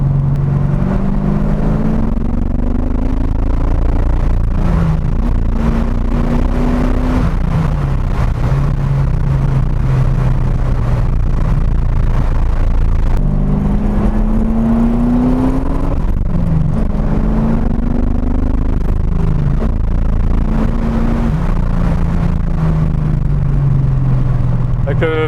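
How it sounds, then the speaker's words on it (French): Corvette Z06, either a C4 or C5, accelerating harder while leaving town, its engine note rising through several gear pulls with brief drops between shifts, loud and close inside the cabin, with someone talking over it. "Allez là on va accélérer un peu plus fort, du coup on va sortir de la ville."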